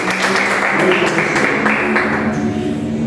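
A congregation at a worship service held in a garage claps together in a steady, dense wash of applause that fills the room at close range, with music sustained underneath.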